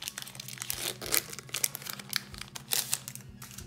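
Crisp crinkling and tearing of foil Harry Potter Wizards trading card booster packs being opened, in quick bursts of rustling close to the microphone with no talking.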